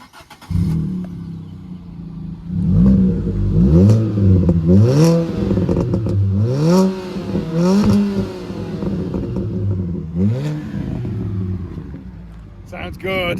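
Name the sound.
Fiat Panda engine starting and revving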